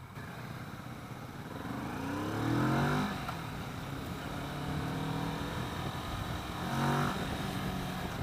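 A 2015 Kawasaki Vulcan S motorcycle engine revs twice, rising from a steady idle to a throttle blip and falling back, recorded from the rider's position.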